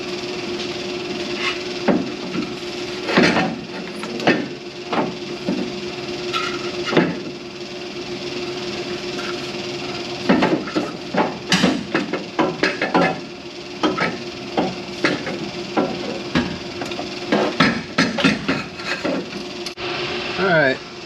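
Wrench clanks, metallic knocks and ratcheting scrapes from refitting the exhaust and transmission cross member under a Ford F-150, arriving in irregular bursts, close and fairly loud, with brief pauses between.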